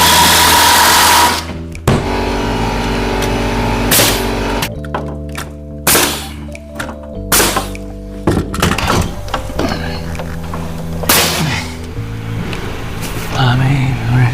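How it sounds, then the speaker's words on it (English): Bolts are driven into new subfloor in an old house, a loud impact driver firing in several bursts with rattling hammer pulses and pauses between, plus close handling knocks. "Now I put the bolts in."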